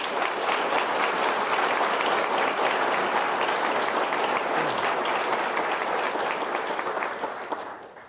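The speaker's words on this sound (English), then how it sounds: "So give them a thunderous applause." A large graduation audience breaks into sustained, dense applause that holds steady for several seconds, then gradually thins and fades toward the end.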